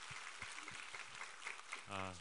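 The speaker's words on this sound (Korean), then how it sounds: "우리 하나님께 감사와 영광의 박수 올려드리겠습니다." Congregation applause during a Korean Thanksgiving Sunday church service, a broad hiss of hands clapping together at moderate level, with a short voiced tone or chord rising at the end.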